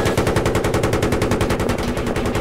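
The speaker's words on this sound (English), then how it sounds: "Something's shooting at us from below and to the right." Rapid, continuous machine gun fire from a helicopter gunner game set over a railroad, sustained and loud throughout with an even, fast rhythm.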